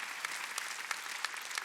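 A church congregation at a Wednesday worship service claps together in a steady, fairly soft patter of many hands, with the beats gathering into a loose rhythm and no voices on top.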